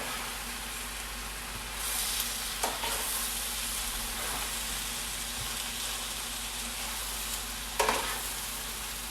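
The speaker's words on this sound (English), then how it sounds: "I'm just going to go in now with some tongs and just lift carefully, lift stuff up and move it around" Pork and gnocchi sizzle in a hot pan as tongs lift and move them, a steady frying hiss with a few soft clacks and shuffles near the pan.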